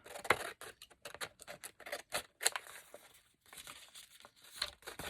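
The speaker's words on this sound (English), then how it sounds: "So I'm going to chop it just a little inside my fold." Paper being cut with scissors just inside a fold while making a handmade travel folio, a quick series of crisp snips and rustling crinkles, close and fairly quiet, with a short pause midway.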